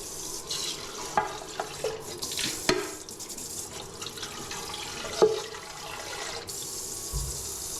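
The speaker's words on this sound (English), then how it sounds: "That's why I'm going to leave the tap on now" Water rushes steadily from a kitchen tap left running before a coffee machine is filled, a close, hissing flow broken by a few clunks and knocks, with no voices.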